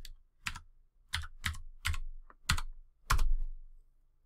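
Password being typed on a computer keyboard numpad, seven or eight sharp separate key presses in an uneven rhythm, close and clear in a quiet room.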